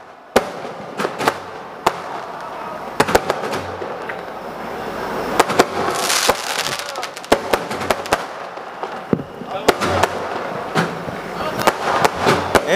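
Fireworks crack and pop in sharp, irregular bursts over a continuous crowd murmur at a stage show in Lucknow, some loud bangs close by and others fainter.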